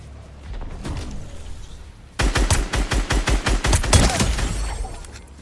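Rapid automatic gunfire in a video game hammers out as a long string of evenly spaced, loud shots after a quieter opening stretch, ending in a denser burst.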